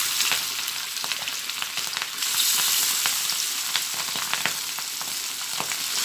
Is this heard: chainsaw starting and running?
no